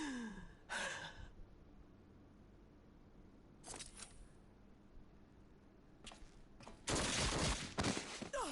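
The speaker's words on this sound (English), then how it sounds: "A gunshot. Gasp." A sharp gunshot and a gasp in the Final Fantasy XIV video game, brief bursts separated by near-silence, ending in a louder, longer crack and rush.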